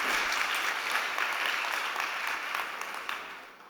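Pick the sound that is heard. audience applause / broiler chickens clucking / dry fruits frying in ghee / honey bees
audience applause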